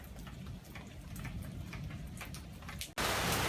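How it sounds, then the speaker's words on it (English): Steady rain patters on a garden patio, a soft continuous hiss with scattered drop ticks, rising into a louder, denser wash near the end. "Just a little rain and some thunder."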